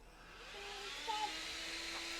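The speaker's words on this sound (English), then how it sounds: "It's just a vacuum." Steady broadband vacuum cleaner drone running continuously at moderate loudness, with a faint tonal whine riding on top and no speech over it.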